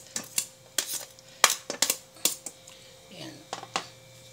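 A utensil clinks and scrapes against a rice cooker pot as garlic, onion and ginger go in, in a run of sharp, close taps and rattles with brief pauses between them.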